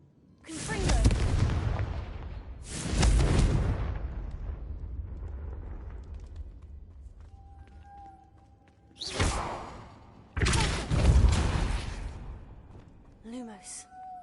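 Confringo blasting spells from Hogwarts Legacy go off as four loud, booming explosions in two pairs, each with a long rumbling tail. Faint magical chimes and tones ring in the quieter gaps between the blasts.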